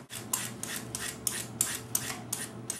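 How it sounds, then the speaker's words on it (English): A carrot being peeled, about eight rhythmic rasping scrapes in quick succession, close and fairly quiet with no talking. "now we're going to peel our carrot"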